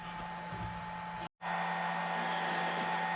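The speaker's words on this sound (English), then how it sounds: "So let's go over to the grinder." A belt grinder in a knife-making shop runs with a steady electric whine and motor hum, cutting out for a split second before resuming at full level, with no voices.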